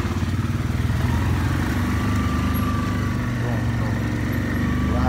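A Yamaha Grizzly 700 ATV engine drones steadily and loudly in low gear and four-wheel drive while riding through snow, with a constant close rumble and a slight rise in pitch near the end.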